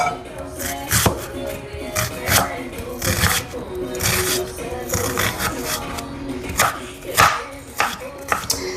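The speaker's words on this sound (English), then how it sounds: "So when you're cutting your onion," A knife chops onion on a cutting board in a series of uneven, close, crisp knocks, with faint background noise between strokes.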